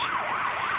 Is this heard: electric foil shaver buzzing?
no